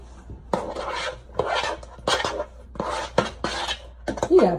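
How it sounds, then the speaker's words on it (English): A spoon mixes food in a bowl, with pineapple among the ingredients, giving repeated bursts of scraping and clinking against the dish in an uneven rhythm, close and fairly loud with no talking. "Get a spoon so we can mix it. And then we're gonna mix this bad boy together."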